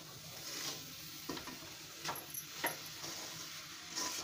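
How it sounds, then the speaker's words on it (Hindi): A spoon works grated coconut into hot sugar syrup in a pan for coconut laddoos, giving soft intermittent scraping strokes over a faint low sizzle, fairly quiet and unaccompanied by voices. "अब इसको अच्छे तरीके से अब चाशनी के साथ मिक्स कर लेंगे।"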